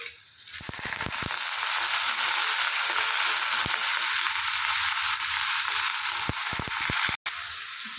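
Chopped gobigadda (cabbage) hits hot oil for a cabbage and chana dal fry, giving a loud, steady broadband sizzle that holds throughout, broken by a few sharp crackles and scrapes.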